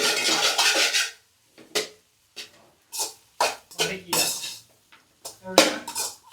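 Veg rice stirred in a pot with soy sauce added, metal spoon scraping and clinking against the pot in several short bursts separated by pauses; a voice speaks loudly at the start.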